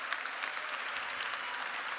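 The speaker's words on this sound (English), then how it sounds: "I want to start by giving a round of applause to Quinn Bergman and the Ferment team" Audience applause at the Ginkgo Ferment 2021 synthetic biology event, a dense, steady patter of many hands clapping at once, sustained evenly for the full stretch.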